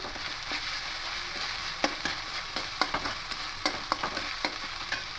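Ginger and green chilli paste frying in a pan while being stirred, a soft steady sizzle broken by repeated sharp scraping taps of a spoon, close and fairly quiet, with no talking.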